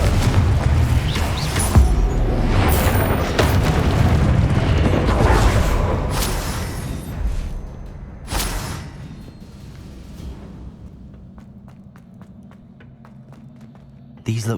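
Confringo fire spells burst in Hogwarts Legacy: loud, booming explosions crowd the first half, then the blasts fade into quieter rumbling and scattered light impacts before a final sharp hit.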